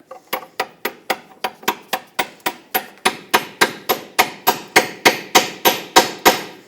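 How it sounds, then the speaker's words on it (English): A hammer drives a 21mm socket over a tie rod mounting nut on a 2005-2010 Chrysler 300 in a steady series of about twenty sharp, evenly spaced blows, close and ringing, with no talking. "hammer a 21mm socket right over that mounting nut"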